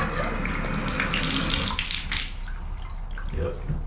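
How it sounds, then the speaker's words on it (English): A toilet flushes in a freshly cleaned and repaired apartment unit, a loud, steady gush of rushing water that eases slightly toward the end, close to the listener. "Good flush."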